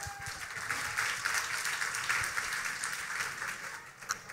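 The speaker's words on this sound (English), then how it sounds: "give her a round of applause" Audience applause at an awards ceremony, a steady wash of clapping held at moderate level throughout with a few sharper claps standing out near the end.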